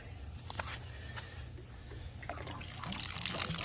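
Rinse water trickling out of a metal Honda gas tank during rust cleaning, a faint, quiet dribble with small splashes that grows a little louder toward the end.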